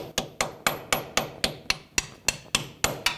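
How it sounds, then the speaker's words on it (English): Steady metal hammer blows driving a socket onto a bolt on a 2001-2007 Toyota Highlander's front suspension, about a dozen evenly spaced strikes, each a sharp ringing clang, close and loud with no talking. "I'm going to have to hammer the socket on."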